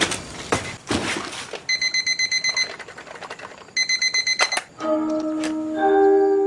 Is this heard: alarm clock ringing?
yes